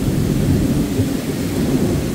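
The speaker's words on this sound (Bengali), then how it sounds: "আর এই টাইমে দেখেন কি বৃষ্টি শুরু হয়েছে" Heavy rainstorm at night in Qatar, a dense, steady roar of pouring rain that holds at a constant loud level throughout, with a deep rumbling low end and no voices.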